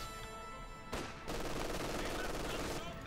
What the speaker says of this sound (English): Grenadiers opening fire, slowly pushing back the 50 cal.